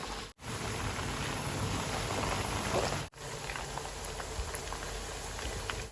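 Pork liver frying in oil in a pan over medium heat gives a dense, steady crackle close up, broken by two brief silences where it cuts out, with no talking.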